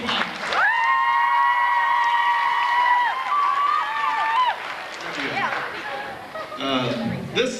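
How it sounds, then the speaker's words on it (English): A crowd at a school sports pep rally applauds a football coach, steady clapping mixed with cheering and loud overlapping voices and chatter throughout. "let's give Coach Tent a nice round of applause"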